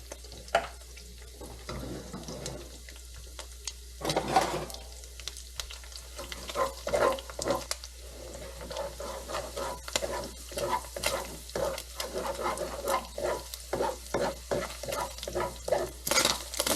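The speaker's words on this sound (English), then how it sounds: "then we're going to drop the garlic right into that sesame oil. Fry that up for 2 to 3 minutes" Garlic frying in sesame oil in a pan, steady sizzling overlaid with repeated scraping stirs that grow into a quick regular rhythm toward the end, close and clear, no one speaking.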